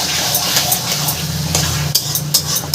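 Taro greens with turmeric and slit green chilies are stirred in a pan, with a soft sizzle under repeated scraping strokes of a spoon against the metal, close and alone.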